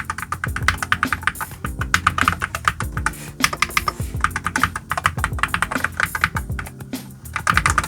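Fast, steady typing on an AKKO TAC75 HE Hall Effect budget keyboard, its keys tapped in quick uneven bursts of crisp clacks that run close and loud through the whole stretch.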